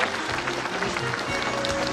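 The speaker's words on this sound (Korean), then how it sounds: "여러분 박수 한번 주세요" A crowd at a book launch event keeps applauding in a steady wash of hand claps, with a voice heard faintly through it.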